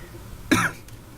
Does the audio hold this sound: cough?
yes